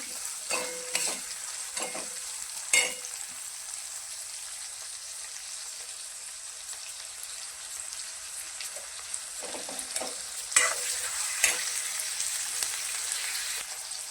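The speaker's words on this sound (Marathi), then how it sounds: "टमॅटो कोथिंबीर हे पण चांगलं तेलामध्ये फ्राय करून घ्या" Tomato and coriander frying in oil in a pan for a rustic Marathi capsicum dish, a steady soft sizzle with occasional louder crackles and scraping stirs scattered through, close and without talk.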